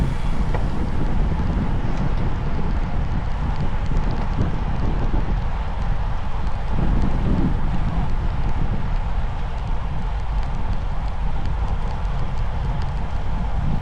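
Steady, loud wind rushes past the microphone of a cyclist racing in a UFOLEP third-category road race at Bruille-Saint-Amand, a continuous broadband roar with no clear breaks.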